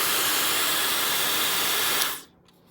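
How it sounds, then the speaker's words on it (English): Knockoff Dyson blow dryer in a home barber setup, a loud steady close-up roar of rushing air that cuts off abruptly near the end, leaving faint room noise. "Dyson blow dryer. And it works pretty good, pretty powerful."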